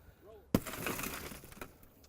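Vehicle window glass pushed in and broken during a rescue demonstration, a sudden sharp crack followed by a second of crunching, tinkling shards, with a faint voice just before.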